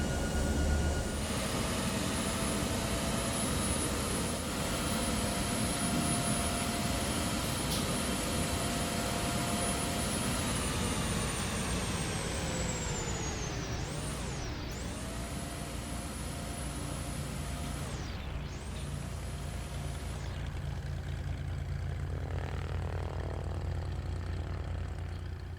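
Airliner engines and APU running in X-Plane 10 flight simulator: a steady jet whine and rumble held for a long stretch, with the tone winding down and shifting partway through, a continuous mechanical hum and no voices.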